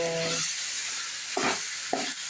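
Chicken pieces sizzle in hot oil in a pan during gravy preparation, a steady broadband frying hiss with a couple of short stirring scrapes, close and moderately loud, with no talk.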